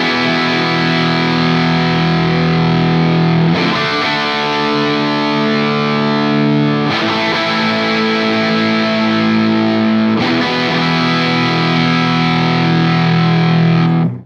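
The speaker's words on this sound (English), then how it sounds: "I'm adding compression to make it more exciting, so it's going to squish the guitar in a little bit" Electric guitar played through a Mary Cries compression pedal, distorted chords ringing out loud and steady in four long sustained strums, each held for several seconds with no talking.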